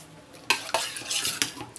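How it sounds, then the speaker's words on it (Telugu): A spoon stirs vermicelli into curd in a bowl, a few close, quick scraping and clinking strokes against the bowl over a short stretch. "ఈ సేమియా అంతా పెరుగులో బాగా కలిసేలాగా కలుపుకోవాలి."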